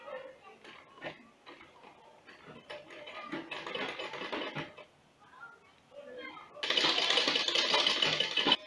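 A sewing machine stitches a sleeve along a pattern, running in short stop-start bursts under a quiet voice, then a louder sustained run near the end.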